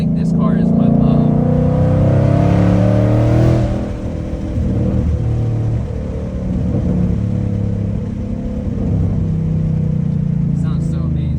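A boosted car engine revs loudly up close, its pitch climbing and falling through repeated throttle blips and a sustained high-rev stretch before settling back.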